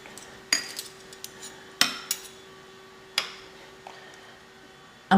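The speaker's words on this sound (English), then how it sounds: "Let's get some spoon over here to stir well." A spoon knocks against a bowl while stirring food colouring into cake batter. A handful of sharp, sparse metallic clinks stand out over a quiet kitchen background.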